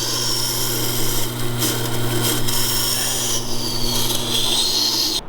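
A knife blade held against a tool rest and sharpened on a honing wheel gives a steady, loud abrasive rasp over a constant motor hum, continuous for several seconds with slight shifts in pressure, and no talking.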